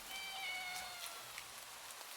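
A cat meows in a video game, a faint drawn-out mewing cry over a steady hiss of rain, with small scattered drops and ticks around it.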